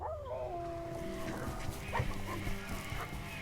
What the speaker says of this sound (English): pig-hunting dogs, bred to track and chase down feral pigs